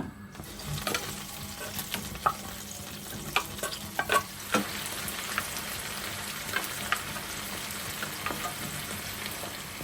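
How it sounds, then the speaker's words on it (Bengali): Tuna fries in hot oil in a pan as sandwich stuffing is made. A continuous sizzle is broken by frequent spatula scrapes and clicks against the pan, close and fairly loud, with no speech. "ফার্স্টে দিয়ে দিলাম তেল তো এই যে এখন দিয়ে দিব টুনা"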